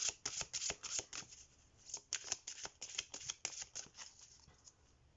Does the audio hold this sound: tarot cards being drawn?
yes